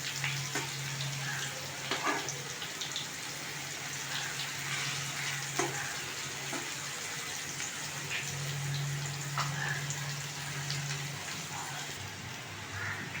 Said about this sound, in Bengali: করলাটা লাল লাল করে ভাজা হয়ে গেছে